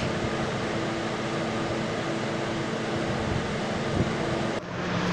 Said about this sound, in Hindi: मैंने थोड़ा कूलर चलाया है इनके लिए